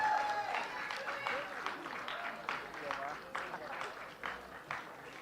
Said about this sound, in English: Let's give them a massive round of applause, everybody.